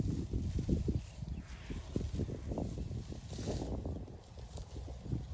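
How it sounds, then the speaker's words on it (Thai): Strong wind gusting outdoors where elephants roam, a steady broadband roar with buffeting bursts on the microphone that continue throughout, loud and close, with no talking heard. "ลมแรงนะคะ"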